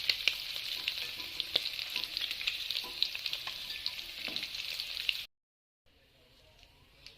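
Prawns fry in hot oil until reddish-brown, making a bright, dense, close crackle with scattered pops that cuts off abruptly near the end, leaving only a faint hiss.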